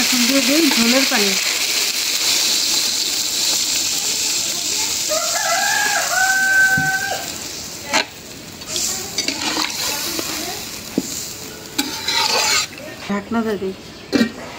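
Potato and tomato curry sizzling loudly in a pan right after gravy water is added, a dense close hiss, while a bird calls in the background and clatters of stirring break through near the end.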